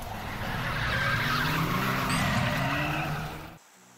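A custom Tamiya Fire Dragon RC car on a LiPo battery, driving on a grassy course with a steady, fairly close motor whine and tire noise for several seconds before cutting off abruptly.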